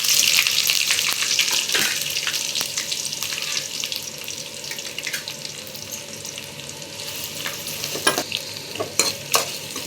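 Two onions with curry leaves sautéing in generous oil for a fish curry, a bright steady sizzle with repeated stirring scrapes and clinks of the spoon, close and without talk.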